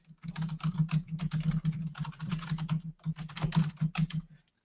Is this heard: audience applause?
no